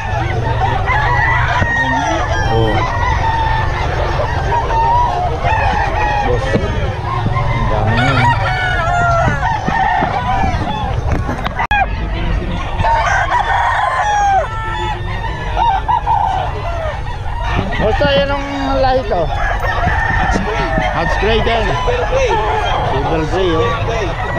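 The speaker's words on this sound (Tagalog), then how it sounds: "Daming manok ngayon." Roosters crow repeatedly among many clucking gamefowl while a crowd of people chatters loudly throughout a gamefowl sale, a busy, noisy scene.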